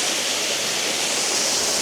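Blairskaith Linn waterfall pours in a steady, close, full rushing roar of water with no pauses and no voices.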